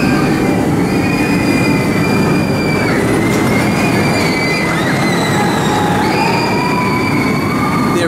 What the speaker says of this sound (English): the train flies ahead.